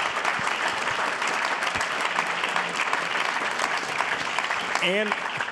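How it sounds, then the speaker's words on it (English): An audience at a White House lead pipe summit gives a loud, steady round of applause, with a voice speaking briefly over the clapping near the end. "I want to ask everybody to give a round of applause to our great local leaders for their perspectives today"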